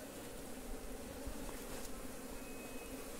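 Honeybees swarming around an opened hive during hands-on propolis work, producing a dense, steady, close buzzing drone that stays even and unbroken throughout.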